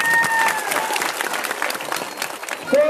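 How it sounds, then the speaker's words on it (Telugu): An audience at a public meeting in Shetturu, Anantapur district, claps in sustained, dense applause that stays strong throughout, with a faint voice briefly heard at the end. "గట్టిగా చప్పట్లు కొట్టండి"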